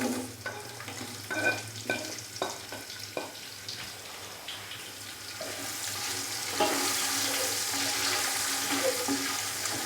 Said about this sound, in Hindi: प्याज को हम 5 से 7 मिनट के लिए अच्छे से फ्राई कर लेंगे ताकि प्याज थोड़ा सा नरम हो जाए